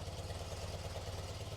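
Engine of a 1980-1996 BMW idling at about 1,100 RPM, a low, even, rhythmic chug that is close and steady throughout, with no talk.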